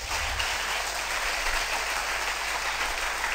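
A church congregation breaks into dense, steady applause for the Lord, a continuous wash of clapping with no voices standing out.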